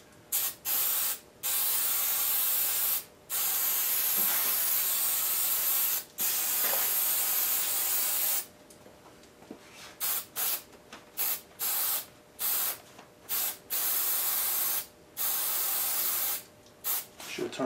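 Repeated bursts of aerosol spray hissing on a Ford F100 seat bottom, some long and steady, others short and quick in rapid succession, close up with no talking.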